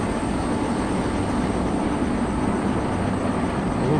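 In Train Simulator, a locomotive hauling the Sabari Express rocks over rough track, giving a steady, loud rumble of wheels and carriage noise that runs unbroken throughout.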